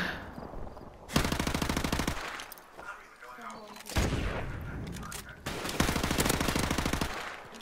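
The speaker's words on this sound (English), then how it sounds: "Missing every shot with my M21." Rapid bursts of M21 rifle fire in a video game, loud and close, coming in three long sustained volleys separated by brief pauses with faint background game sounds between them.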